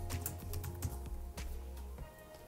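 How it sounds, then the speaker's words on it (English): Quick keystrokes on a computer keyboard while entering a fuel-level sensor name in tracker configuration software, a short soft run of clicks at close range over a low steady hum, without speech. "In the first box, we can type fuel level"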